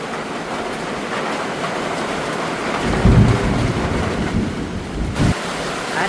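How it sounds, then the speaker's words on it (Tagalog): Steady heavy rain hisses throughout while low rumbles of thunder roll in partway through, swelling and fading. "malakas po ang ulan na may kasamang kidlat"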